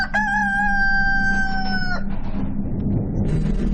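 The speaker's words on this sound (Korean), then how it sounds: "정막을 깨는 한 수탉의 울음소리." A rooster gives a single loud, close crow that lasts about two seconds. Softer rustling and clucking follow, with no speech.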